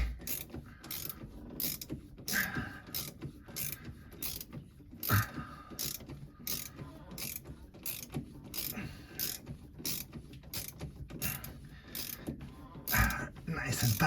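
Tightening a shaft seal fitting during a leak repair produces a close series of sharp ratcheting clicks in quick rhythm, with small creaks and scraping under each turn, fairly quiet and steady throughout.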